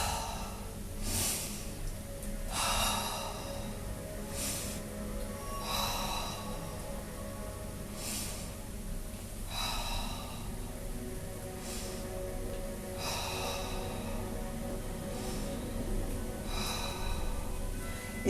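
A person breathes in and out during a seated Pilates exercise at home, giving a regular series of soft, close breaths spaced a couple of seconds apart over a faint background hum.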